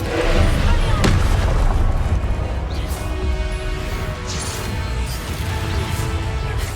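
Fire and blasting spells go off in Hogwarts Legacy, a dense rumbling explosion with a sharp bang early on and continuous booming combat noise, loud and close.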